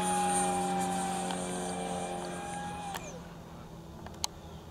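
A BAE Hawk 'Red Arrows' 50mm EDF RC model jet runs at full throttle, giving a steady distant whine with tonal harmonics that slowly fades and shifts pitch, over faint outdoor background.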